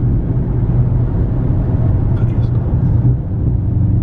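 A Dodge Charger Hellcat with catless midpipes cruising at about 50 mph, its exhaust a loud, steady, deep drone heard from inside the car without letup.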